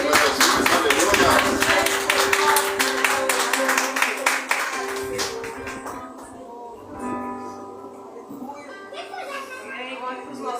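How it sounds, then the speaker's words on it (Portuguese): A church congregation at a worship service claps energetically in rapid rhythm for several seconds, then the clapping fades into music and voices. "A salva de palmas para Jesus"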